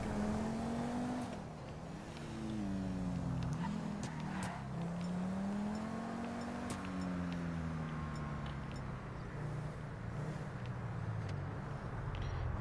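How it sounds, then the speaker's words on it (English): An Obey 9F sports car in GTA 5 revving and droning with rising and falling engine pitch, a few sharp pops and crackles of backfire breaking through the steady drive. "God, Obey 9F, you need to calm down with this backfiring"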